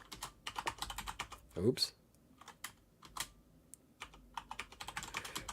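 Computer keyboard keys typed in quick irregular bursts while entering a password, close and fairly quiet, with a voice speaking briefly over the clicking.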